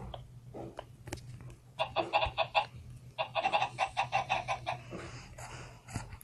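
A quick series of Minecraft chicken clucking calls in rhythmic bursts, fairly close, with a short pause between runs and faint clicks around them.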